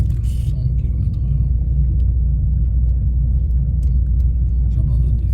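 Steady low rumble of a high-speed train rolling at about 200 km/h past villages and a large lake near Tver, a continuous dense roar filling the low end with faint rattles on top and no break throughout.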